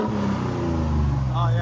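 A Toyota Tundra 3.4L twin-turbo V6 with a Borla Atak exhaust revs under gas, a deep steady rumble rising slightly near the end, with people talking over it close by.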